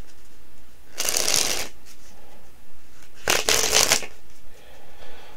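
Coated plastic playing cards from a magic show kit being shuffled in two distinct riffling bursts, close and fairly loud, separated by a short quiet gap with no talking.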